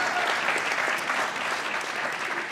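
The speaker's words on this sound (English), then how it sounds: "Big round of applause for Peter Mayer." A short burst of vigorous audience clapping at a church gathering honours a guest speaker. The sound is thick and even throughout, with no speech over it.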